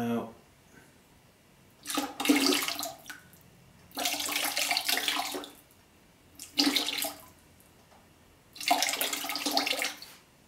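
Raw glaze is poured over a pottery piece in four separate splashing, gushing bursts of about a second or so each, spaced by quiet pauses, fairly faint and without talk.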